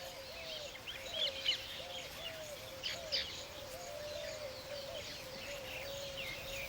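A nest-building weaver-type bird gives a run of thin, rising chirps and short squeaky calls, with a few brighter bursts standing out, fairly faint against a soft outdoor background hiss and no voices.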